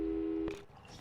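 A telephone busy signal in the video game Portal 2, a steady electronic tone that cuts off after about half a second, followed by quiet.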